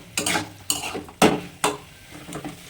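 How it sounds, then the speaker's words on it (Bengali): Peas are stirred in a pan over a high gas flame, with four or five loud spatula strokes scraping and clattering over a sizzling hiss, close by and unaccompanied by speech. "ভালো করে নাড়াচাড়া করে একটু গ্যাসটা জোরে করে দিয়ে নাড়াচাড়া করে নেবে"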